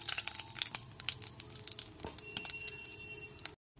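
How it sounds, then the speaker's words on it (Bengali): Black cumin seeds frying in hot oil left from frying pabda fish, a steady close crackle and sizzle with scattered sharp pops, ending abruptly in silence. "ওই একই তেলের মধ্যে দিয়ে দেব 1/2 টিস্পুন কালো জিরে। কালো জিরেটা এখানে হালকা করে ভেজে নেব।"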